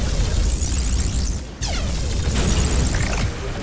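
Explosions from bombers in the game Taur roll out as dense, rumbling booms with a short dip in the middle, loud and close.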